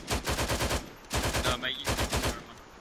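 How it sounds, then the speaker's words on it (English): Rapid bursts of video game gunfire fired from the hip, loud, close automatic volleys in three quick strings, with a brief short sound between the first two bursts. "It's all about that hip fire, mate."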